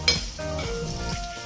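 Garlic tempering for an old-style rasam sizzles in hot oil after the gas is turned off, a short, steady, fairly quiet crackle with a small clink at the start.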